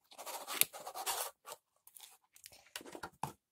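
A small box holding a new Epson L800 print head is carefully opened up close, giving crisp crinkling, scraping and tearing rustles in short bursts separated by brief pauses.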